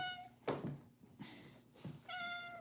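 A house cat meows twice, close and fairly quiet, with short gaps and faint room noise between the calls.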